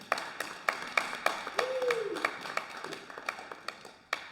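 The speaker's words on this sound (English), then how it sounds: "Please give a warm round of applause for Anton Zappelli." A small group claps for the bronze medalist at a mixed 10m air rifle prone final, sparse, fairly faint individual claps spaced unevenly, with a brief tonal sweep partway through.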